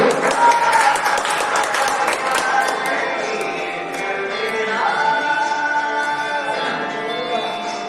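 Children at a farewell ceremony at a gurukul school clap in a sustained, fairly loud round of applause that slowly fades. Music plays underneath and a voice talks over it.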